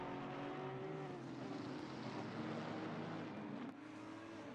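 Race cars in a sim racing game, a Porsche and an Aston Martin battling at the Nürburgring, give a steady, loud engine drone throughout, with a slight shift in pitch near the end.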